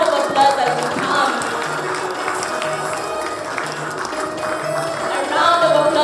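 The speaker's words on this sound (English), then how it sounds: "a round of applause as we come" Applause from an audience at the OFAB Kenya Media Awards 2021 rolls on as winner Leopold Obi comes up, a steady crowd patter mixed with cheering and talk over a loudspeaker.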